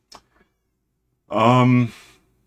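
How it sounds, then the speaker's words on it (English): A cat meows once in the Minecraft video game, a clear and fairly loud call lasting about half a second, heard on its own after a few faint clicks. "Cat's waiting to sleep on my head."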